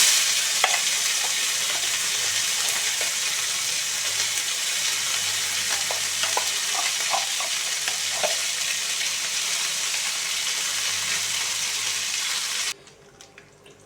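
Bottle gourd leaf paste fries in hot oil with nigella seeds. A dense, constant sizzle is broken by scattered scraping clicks as it is stirred, then it cuts off abruptly near the end.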